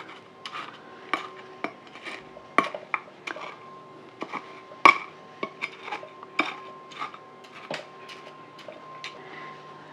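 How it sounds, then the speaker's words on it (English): A spatula pressing and working a gritty bonsai soil mix around roots to clear air pockets gives quick, faint scraping clicks and taps in an irregular rhythm, close and alone. "use your spatula here to remove any air pockets in the soil mix"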